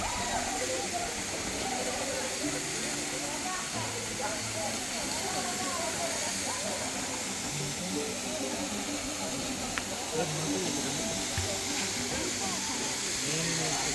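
Lyngksiar Falls near Shillong pours with a steady, broad rushing hiss that fills the whole scene, while people talk and call out nearby over the water.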